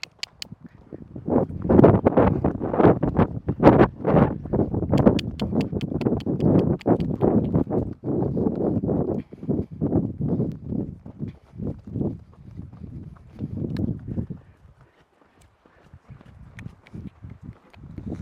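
Horse hooves clip-clop on the ground during a training session, shifting from a walk into a lope, with a steady rhythmic beat that is fairly close and fades near the end.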